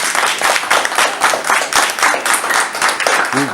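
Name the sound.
audience round of applause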